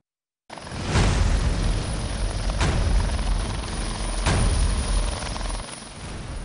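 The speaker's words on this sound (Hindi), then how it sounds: "इलाहाबाद की पुलिस लाइंस में ग्राउंड पर उतर रहा है एक हेलीकॉप्टर" A helicopter landing on a police lines ground in Allahabad makes a loud, steady rotor roar close by, with heavy rhythmic blade thumps throughout.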